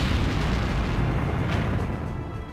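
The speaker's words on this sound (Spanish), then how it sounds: "La fuerza de la explosión paró la batalla en seco." A gunpowder mine blast beneath fortress walls during a siege, heard as a dense, sustained deep rumbling roar that stays loud and heavy throughout with no voices over it.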